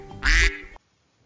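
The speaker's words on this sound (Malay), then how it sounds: "Kita lihat haiwan yang kedua pula, iaitu itik." A duck gives a single loud, nasal quack up close, lasting about half a second, followed by near silence.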